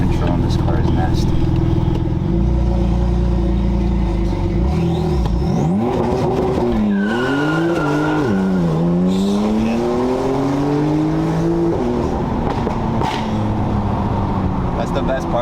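A Porsche 911 (991.2) engine roars loudly through a hard launch-control start, revs climbing in several sharp sweeps as it shifts, with rumbling noise throughout.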